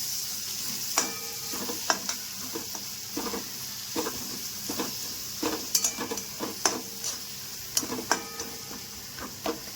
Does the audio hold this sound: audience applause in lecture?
no